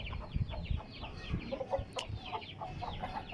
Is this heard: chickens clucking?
yes